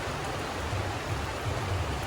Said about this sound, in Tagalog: Tulad ng ulan.